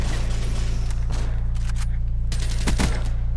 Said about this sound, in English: I didn't know a shotgun was gonna kill me like that.